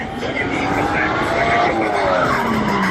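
A 600 hp LS-swapped Nissan 240 drifting with a pro driver, tires skidding and squealing loudly and continuously under a roaring engine, heard from inside the car.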